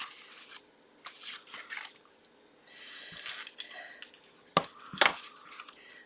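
Paper for a handmade card being folded and creased at a crafting table: a few short, crisp rustling bursts, then two sharp creasing strokes near the end, close and fairly quiet, with pauses between.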